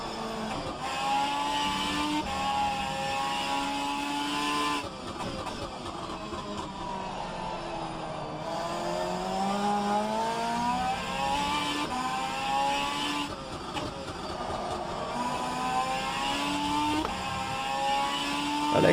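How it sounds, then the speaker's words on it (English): A race car engine in the sim racing game rFactor 2 revs loudly and steadily, with rising pitch sweeps as it accelerates and repeated stepped drops as it downshifts through the gears, continuous throughout with no talk. "I'm mostly triggered by the downshift sounds when the car's doing dum dum dum dum dum dum dum"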